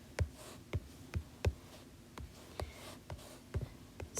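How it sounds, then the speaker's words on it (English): Fingers tap on an iPad's on-screen keyboard, a series of about ten soft, close, separate clicks at an uneven typing rhythm over quiet room tone. "So then you just have to start typing something."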